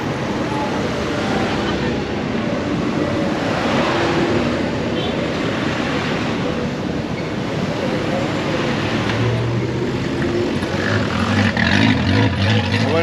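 Busy street traffic in Venezuela gives a steady, dense roar of passing vehicles close by, a constant broad wash of engine and tire noise with no breaks.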